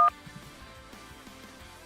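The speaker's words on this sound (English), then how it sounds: "Oh, phone's ringing." A phone rings in the Car Mechanic Simulator 2026 video game as a short electronic tone burst, followed by faint, soft blips in a quiet workshop scene.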